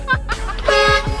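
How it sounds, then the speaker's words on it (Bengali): A car horn honks a short toot over street noise, sounding close and loud, with a voice briefly audible around it. "কিন্তু গাড়িতে থাকা লোকটি হর্ন দেয়।"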